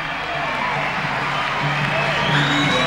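Crowd noise swells at a 1990 NBL basketball game between the Newcastle Falcons and Brisbane Bullets, a steady roar of cheering with scattered whoops beneath a commentator's voice.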